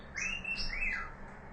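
Pet birds kept alongside macaws and a parakeet give bright, close chirps and calls, a few overlapping tweets rising and falling over about a second, with no talking.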